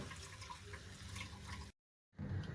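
Water poured onto rice in a cooking pot, a steady rushing stream for over a second and a half that cuts off abruptly, then resumes briefly near the end.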